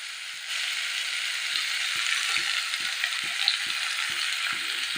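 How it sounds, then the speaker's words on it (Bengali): Papaya and potato pieces frying in a hot pan, a steady loud hiss of sizzling oil with soft regular ticking clicks underneath, no speech. "পেঁপে আলুগুলো ঢেলে দেবো"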